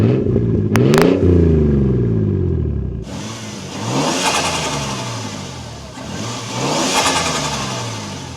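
A worn older-generation Toyota Prius engine on a racetrack, starting with a brief whine and then revving in loud repeated swells, rising and falling under strong wind rush, no voices.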